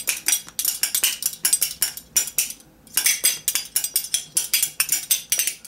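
A pair of spoons is played as a rhythm instrument, struck against hand and knee in rapid bright clacking bursts with short pauses, close and alone.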